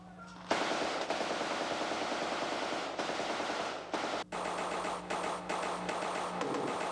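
Rifle gunfire as the remaining rounds are fired in a military training setting, rapid automatic bursts in a dense, loud stream with a few brief breaks, heard alone without voices.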